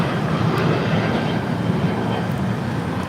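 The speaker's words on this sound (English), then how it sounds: "This is Sun Country Airlines 9020 taking off to Minneapolis on a 737-800." A Sun Country Airlines Boeing 737-800 takes off at LAX, a steady, broad jet-engine roar heard from a distance that holds constant throughout with no talk.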